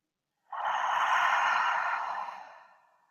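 One long, deep breath during a grounding breathing exercise: a close, soft airy rush that swells and then slowly fades, alone in quiet surroundings.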